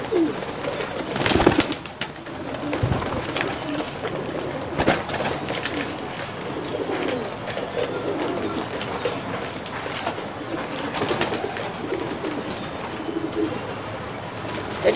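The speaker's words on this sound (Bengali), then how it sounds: "এটা গ্রিজেল, এই কবুতরটা গ্রিজেল।" Grizzle pigeons cooing in a pigeon loft at a Dhaka pigeon market, repeated low throaty coos close by with a few wing flutters and bursts of background noise.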